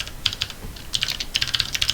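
A computer keyboard is pressed in a quick run of crisp, close clicks, holding Ctrl while tapping the numpad divide key, with short bursts of keystrokes separated by brief pauses.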